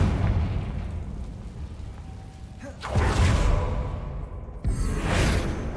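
Confringo fire-blast spell cast in Hogwarts Legacy, heard as two rushing, booming whooshes a couple of seconds apart over a steady game-ambience rumble.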